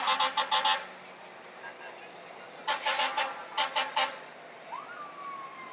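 A fire truck rolls by in a Fourth of July parade, giving several bursts of short horn blasts in clusters, with a brief rising siren wail and a voice speaking faintly between bursts.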